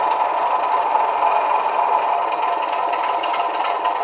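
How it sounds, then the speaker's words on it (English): Steady diesel engine drone from a Heljan Class 27 model locomotive fitted with a sound decoder, a continuous mid-pitched rumble with faint clatter holding an even level throughout, close and alone without talk. "use your throttle control to vary the engine note"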